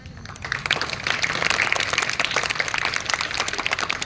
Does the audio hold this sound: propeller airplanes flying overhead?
no